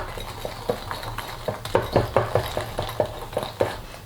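A spoon or whisk clinks steadily against a bowl while praline cream is stirred, a run of close, rhythmic taps and scrapes with no talking.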